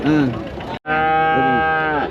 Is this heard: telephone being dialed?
no